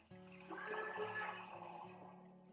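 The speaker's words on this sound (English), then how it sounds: "Then we'll add water in it." Water streams steadily into a cooking pot holding vermicelli, a soft continuous pouring rush over a low steady hum, quiet and close.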